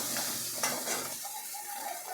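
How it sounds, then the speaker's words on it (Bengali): Frying with turmeric in a pan gives a soft, close sizzle with a couple of stirring scrapes early on, then a quieter hiss. "একটু ভালো করে ভেজে নেবো"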